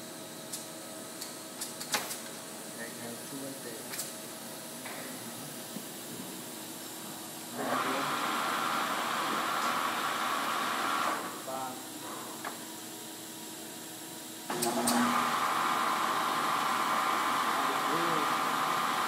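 Horizontal table type boring mill with its quill feeding, a steady whirring hum that steps up in loudness as feeding starts and again later, under intermittent talk from people nearby.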